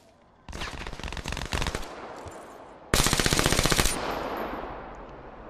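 Automatic gunfire in a first-person shooter video game, two rapid full-auto bursts, the second louder and closer, with a short pause between them.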